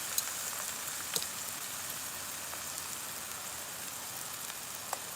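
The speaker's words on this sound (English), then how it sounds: "I love that sizzle. I love that sizzle." A steady, even hiss of chicken sizzling in a hot pan for Pad Thai, with a few faint pops and crackles scattered through it.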